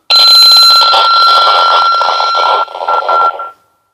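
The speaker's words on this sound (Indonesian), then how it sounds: "Oke, FC10 Pro bunyi." SCOM FC-10 Pro dualband 10W handheld radio sounding a loud, steady electronic tone close by for about three seconds, wavering briefly before cutting off.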